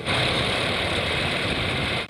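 A 330-horsepower engine in an armored vehicle, a German-made unit, running with a steady dense low rumble and throbbing, loud and close, cutting off abruptly at the end with no talking over it.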